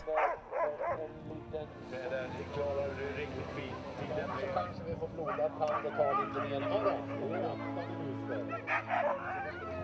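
Many sled dogs barking and yipping excitedly together at the start area of a world championship sled dog race in Åsarna, 2008, during a light snowstorm; some whining, a busy restless chorus with people's voices mixed in.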